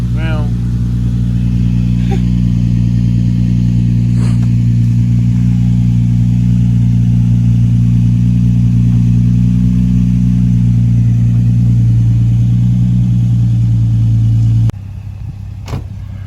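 A Nissan G35/350z with an ISR Performance single exit exhaust idles loudly and steadily up close, a deep droning hum that holds for most of the stretch before cutting out abruptly near the end, with a voice talking over it.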